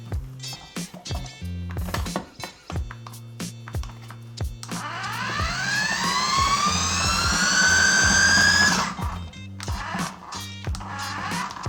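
A cheap fruit and vegetable peeler machine's motor strains while peeling green apples, its high whine rising steadily for a few seconds over knocking and clattering, then cutting off abruptly amid continued loud thumps.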